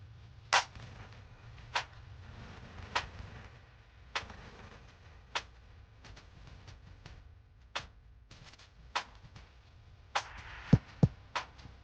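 Pistol gunshots in Roblox Jailbreak, sharp single cracks fired at a slow, irregular pace, about a dozen shots over a quiet background, with a quicker cluster near the end.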